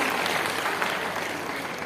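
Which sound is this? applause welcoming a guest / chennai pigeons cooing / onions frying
applause welcoming a guest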